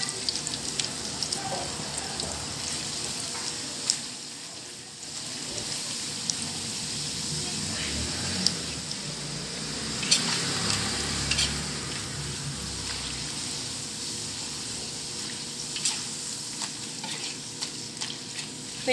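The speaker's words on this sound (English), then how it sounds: "They are deep fried in pork manteca." Rioverde-style enchiladas deep frying in pork lard, a dense, steady sizzle and bubbling close by with scattered crackles and some stirring throughout.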